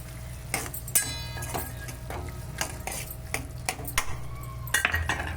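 A spoon stirs coriander into a ridge gourd curry in a metal pan, with scattered close scrapes and light clinks over a low steady background hum, no talking.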